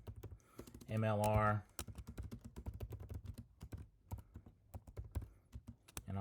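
Rapid clicking keystrokes on a computer keyboard run in quick irregular bursts, interrupted by a short spoken word.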